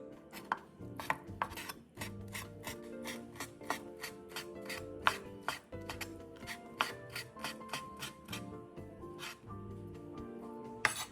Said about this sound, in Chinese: 去线后切成颗粒状